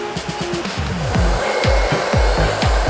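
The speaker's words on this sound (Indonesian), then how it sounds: "Untuk tahap berikutnya yaitu pengeringan menggunakan hair dryer." Hair dryer blowing to dry screen printing ink, a loud, close, steady whirring roar with a wavering, pulsing hum throughout and no talk.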